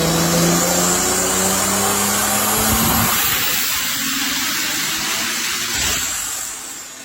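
A tuned BMW B58 engine revs hard on a chassis dyno, a loud rising drone that climbs in pitch, then drops off into steady whooshing blower hiss, with the noise easing away near the end.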